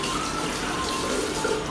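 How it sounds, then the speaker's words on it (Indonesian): Water runs steadily from a tap for handwashing, a continuous splashing hiss close by at a constant level throughout, with no talking. "Yang pertama, kita hidupkan air keran."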